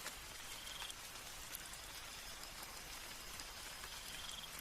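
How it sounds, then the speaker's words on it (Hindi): Soft, steady patter of light rain, a continuous gentle hiss with scattered faint drops, quiet and even throughout. "हल्की हल्की बारिश हो रही थी"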